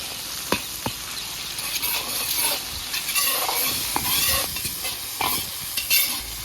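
Coarsely ground ginger being stirred in a hot frying pan, a steady sizzle with sharp spoon scrapes and clinks against the metal at irregular intervals, close and fairly loud, with no talking.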